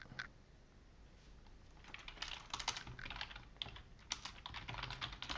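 Fingers tap on a computer keyboard in a quiet room, producing soft, irregular clusters of keystrokes with short pauses between bursts and no talking.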